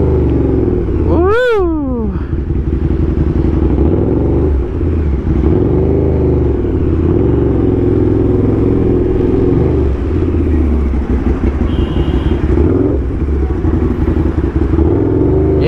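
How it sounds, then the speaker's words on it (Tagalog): A KTM Super Duke motorcycle engine roars loudly and continuously in an enclosed parking area, with a quick rising whine near the start, filling the whole stretch with heavy rumbling. "Ito kasi motor na to pag kulob na napakaingay talaga nito."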